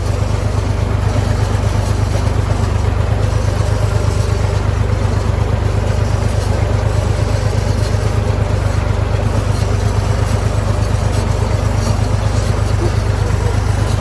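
An IMT 539 tractor engine runs at raised throttle during baling, a loud, steady low diesel drone that holds without letting up for the whole stretch.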